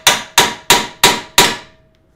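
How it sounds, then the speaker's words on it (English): Five sharp metallic hammer blows driving an extractor home on a track car, evenly spaced and loud, each ringing briefly before the next, the last decaying into silence. "Go ahead and put the extractor in and hammer it home."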